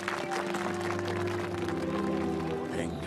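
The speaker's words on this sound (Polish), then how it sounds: "Brawa również dla pana ministra" Audience applause honoring a minister at a film premiere event, a steady wash of many hands clapping at moderate distance, continuous and even throughout without a break.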